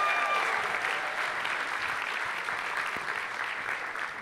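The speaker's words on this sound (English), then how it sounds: "Give yourself a round of applause" A theatre audience at a live comedy show applauds steadily and loudly throughout, a dense unbroken wash of many clapping hands, with faint crowd murmur beneath.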